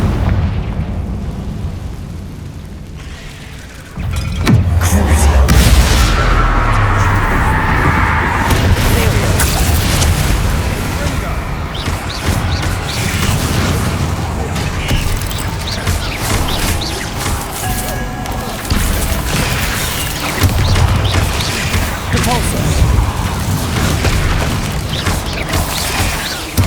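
Blasting-spell explosions in the Hogwarts Legacy video game: a sudden deep boom followed by a long, loud rumbling wash of magical combat effects, with a voice calling out spells throughout.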